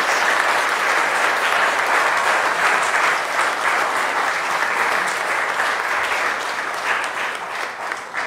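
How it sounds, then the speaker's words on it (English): Steady, full applause fills a hall at a national conference of preventive and social medicine as the crowd honors the organizing team, thinning slightly near the end. "a big round of applause to entire organizing team for his entire district."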